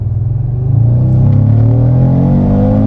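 An Audi car accelerates hard at full power on a wet road, its deep engine rumble rising steadily in pitch as it gathers speed, loud and close with no voices.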